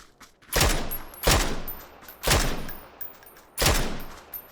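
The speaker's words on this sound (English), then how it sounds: "I'm just gonna rewind to see those shots again" Four heavy gunshots from the video game PUBG, spaced about a second apart, each a loud sharp crack with a long decaying tail, with no talk.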